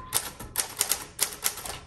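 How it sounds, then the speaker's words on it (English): Keys strike sharply on a 1938 Corona Sterling manual typewriter, about eight crisp clacks at an uneven typing pace, close and clear with no voices. "Let's go ahead and start our typing."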